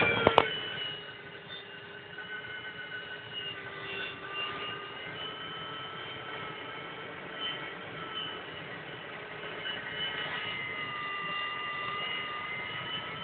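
Light aircraft OY-XOD cruising at 4,000 feet over Gørløse, its engine droning steadily from inside the cockpit with a constant tonal hum and mild wind noise throughout.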